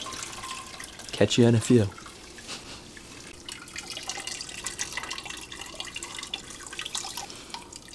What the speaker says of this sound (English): I'm going to be standing here for quite a few minutes draining this grain